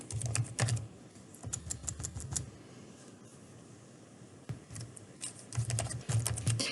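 Close, fairly loud bursts of rapid keystrokes on a computer keyboard as an email address is entered. Clustered runs of clicks are separated by a quiet pause in the middle.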